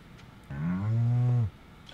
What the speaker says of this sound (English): Good to see my moo cow.